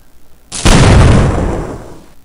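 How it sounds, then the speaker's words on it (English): A non-pistol weapon fires in the Half-Life video game. One loud, sudden blast cracks out and then fades through a long rumbling tail. "I don't think that's a pistol being shot over there."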